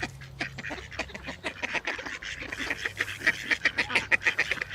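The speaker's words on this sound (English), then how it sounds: "I'll go and feed the ducks" Ducks by a river being fed, a close flock quacking rapidly and repeatedly in busy overlapping bursts that grow louder and more excited, with no talking.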